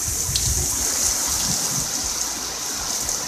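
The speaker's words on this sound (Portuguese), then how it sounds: "Correndo água." Rainwater runs steadily along a street after an afternoon downpour, a loud continuous rushing wash close by with no voices over it.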